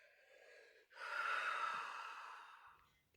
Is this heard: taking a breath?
yes